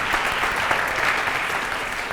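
An audience at a cooking-mathematics talk applauds, a dense, even wash of many hands clapping close by that holds steady throughout without a break.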